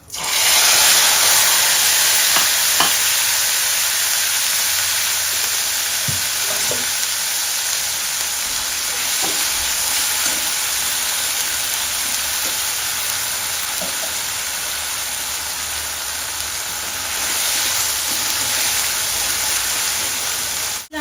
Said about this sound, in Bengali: ফোড়নে দিলাম তেজপাতা, শুকনো লঙ্কা আর গোটা জিরে, আদা আর পেঁয়াজ বাটা।